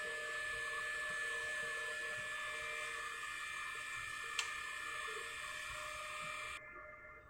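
Printer running a weak-mode head cleaning cycle, a faint steady whirring motor hum with a single small click midway, cutting off abruptly near the end.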